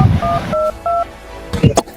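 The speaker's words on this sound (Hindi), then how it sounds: "रुक, अभी मिलाता हूँ मैं उनके पास फोन।" Three short keypad dialing tones sound in quick succession on a phone, each a clean steady beep, with brief bursts of nearby voice or handling noise before and after.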